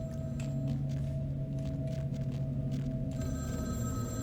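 A telephone rings in the Vampire: The Masquerade – Bloodlines video game, a steady electronic ring over low ambient game hum, with no one talking.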